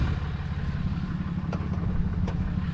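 An idling truck engine rumbles low and steady at close range, with a couple of faint clicks over the continuous drone.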